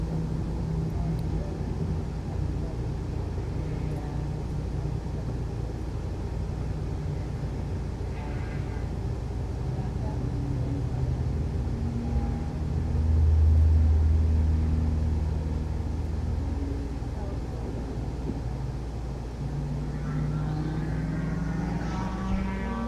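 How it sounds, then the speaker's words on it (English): Race car engine heard from an in-car camera, a steady low rumbling drone throughout with a brief swell midway, muffled and constant. "Looks like we got noise coming from the in-car cam."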